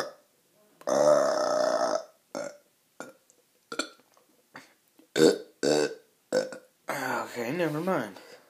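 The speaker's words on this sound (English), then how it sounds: "while I'm waiting for a burp real quick." Several loud burps come in separate bursts during a coffee-chugging attempt, a long drawn-out belch among shorter croaks, with vocal noises between them.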